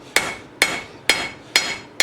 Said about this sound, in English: Take the dog face hammer and work right along the edge.